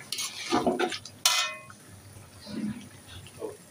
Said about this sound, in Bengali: চাল ডাল দিয়ে দিচ্ছি।